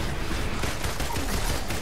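Rapid gunfire in the Avengers video game, a dense continuous burst of shots lasting under two seconds, loud and close with no voices.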